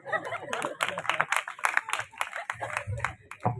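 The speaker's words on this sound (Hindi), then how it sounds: "इस कुत्ते के सम्मान में एक बार जोर से तालियां बजा दी।" Audience at a Hindi poetry gathering clapping loudly in bursts, close and uneven, mixed with laughter and voices talking over the claps.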